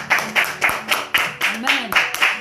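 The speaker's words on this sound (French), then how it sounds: "acclame Jésus avec moi" A church congregation claps in steady rhythmic unison to acclaim Jesus during a worship service, about eight sharp claps over a couple of seconds, with a voice speaking over them.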